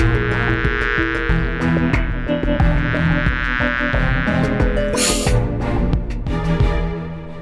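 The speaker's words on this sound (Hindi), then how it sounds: "चली कैसे गई है मधुमक्खी सुरक्षा कवच के अंदर?" A bee trapped inside a protective mesh cover buzzes loudly and continuously near the listener, with a sharp burst partway through, set against a busy musical backdrop and no talk.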